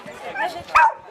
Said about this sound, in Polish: Zobaczymy, jak śpiewają psy.